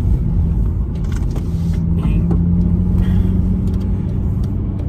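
Honda Civic Type R FN2 rolling steadily around a roundabout, heard from inside as a constant engine hum and road rumble with light knocks and rattles from the boot, no talking.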